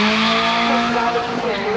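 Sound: drag car doing a flyby at a race track

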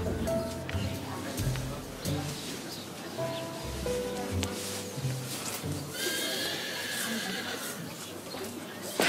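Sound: horses neighing

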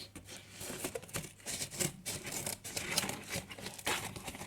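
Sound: scissors cutting cardboard

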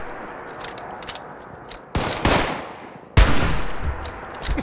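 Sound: gunfire between two players in Fallout 76 video game

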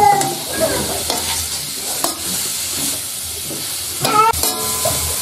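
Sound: stir-frying mushrooms sizzling in a pan

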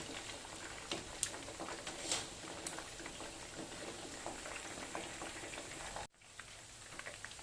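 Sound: pork leg frying in oil, turned back and forth

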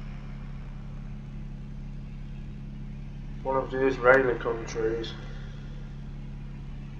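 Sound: truck driving in the video game Euro Truck Simulator 2

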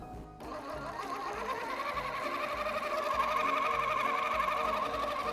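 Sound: mixing milk and cream into crepe batter

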